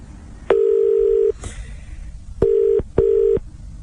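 Electronic telephone tones sound clearly on their own: one long steady beep, a short pause, then two shorter beeps in quick succession.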